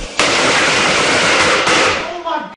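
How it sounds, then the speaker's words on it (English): A loud, dense crackle of firecrackers popping in rapid succession, close up, lasting a couple of seconds before cutting off. "But I got these firecrackers, and I'm gonna blow them up."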